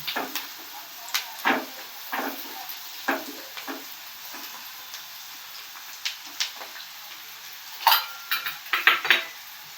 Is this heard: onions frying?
yes